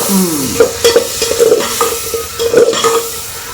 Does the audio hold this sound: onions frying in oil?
yes